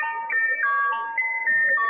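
A historical German emergency alert plays a bright electronic chime melody, stepping through clear sustained tones in a tune much like an ice cream truck jingle, alone and steady for about two seconds.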